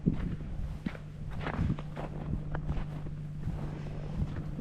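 Soft footsteps crunching through powder snow after a snowstorm, a steady walking rhythm under light wind buffeting the microphone, close and fairly quiet.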